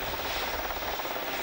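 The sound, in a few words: Westland Whirlwind search and rescue helicopter at air show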